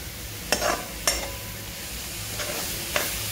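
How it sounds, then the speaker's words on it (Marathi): Milk, ghee and grated coconut being stirred together in a pan for jaggery coconut vadi, with a few distinct spoon scrapes and taps over a soft steady sizzle, close and fairly quiet, no talking. "परत हे दूध, तूप आणि खोबरं हे एकजीव करून घेणार आहोत."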